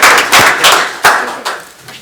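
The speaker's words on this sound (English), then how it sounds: "Please join me for a round of applause to Committeeman Doug Thompson." Applause at a township committee reorganization meeting, loud, close claps from a few hands in an uneven rhythm that thins out over two seconds, with sharp individual smacks standing out.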